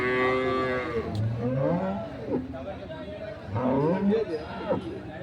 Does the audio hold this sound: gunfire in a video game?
no